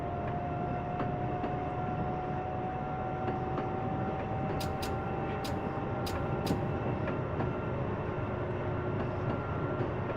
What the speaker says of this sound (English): I can actually hear a express train waiting